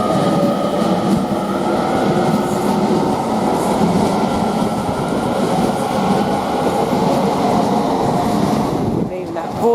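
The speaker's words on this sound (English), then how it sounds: "Now we are getting this late run 1345 from Birmingham New Street to London Euston, just now leaving" Passenger train 807005 departing Coventry station for London Euston, a loud continuous rumble of rolling stock with a few faint clicks from the wheels, staying steady throughout.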